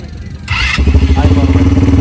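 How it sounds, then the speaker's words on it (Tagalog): An ATV restarted after stalling during an outdoor ride at El Zamba Villas in Liwliwa, San Felipe, Zambales: a short starter whir, then the engine catches and settles into a steady, close, throbbing idle. "pag namatay po yung ATV natin, start natin"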